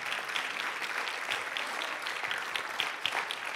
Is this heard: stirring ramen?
no